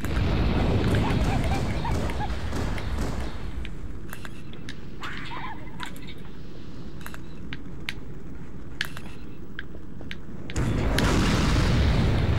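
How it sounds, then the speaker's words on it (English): A loud, booming explosion in the video game Halo on Legendary difficulty rumbles heavily at the start, then quieter game sounds with sharp clicks follow, and a second heavy blast rolls in near the end. "I knew there was another explosion"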